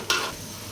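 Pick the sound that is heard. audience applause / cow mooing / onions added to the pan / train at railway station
onions added to the pan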